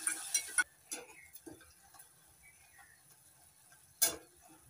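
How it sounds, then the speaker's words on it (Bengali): Ginger, tomato and green chili paste is stirred in a pan after cumin tempering, giving a faint sizzle with a few sharp clicks of a utensil against the pan at the start and near the end. "নাড়াচাড়া করে ভালো করে মিশিয়ে নিচ্ছি"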